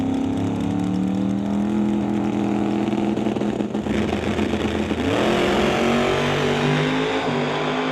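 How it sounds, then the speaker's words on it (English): A drag race car revs at a racetrack, a loud sustained engine drone that holds a steady pitch and then shifts higher midway as boost builds, with no voices. "You'll hear the boost build for Nick Duda over there on the far side of the racetrack"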